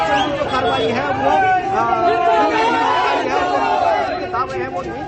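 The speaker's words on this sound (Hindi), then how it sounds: "तमाम जो नारेबाजी है वो की जा रही है" Protest crowd in Nainital, a dense mass of many voices chattering and calling out together, steady and loud for the whole stretch with no single voice standing clear.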